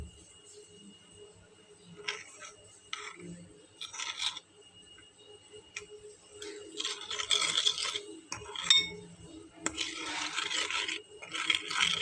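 Spice powders are mixed with a little water in a bowl, producing intermittent close scraping and rubbing bursts separated by short quiet pauses, with no talk.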